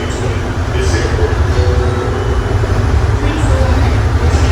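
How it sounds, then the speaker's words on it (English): Hartsfield-Jackson Atlanta airport Plane Train people mover pulling away from a station at night, a steady loud rumble and rolling hum throughout with faint high squeals, under a recorded voice announcement. "Please hold on. This train is departing."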